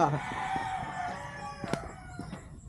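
Rooster crowing with hens clucking on a small backyard farm of laying hens: a drawn-out crow opens, then scattered short clucks follow nearby, fairly quiet.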